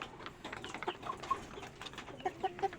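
Rhode Island Red chickens kept as future breeders give soft, scattered clucks and short calls, moderately close and fairly quiet, with a few louder clucks toward the end.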